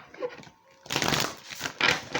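Brief riffle of tarot cards being shuffled, a couple of quick papery bursts close by after a short pause.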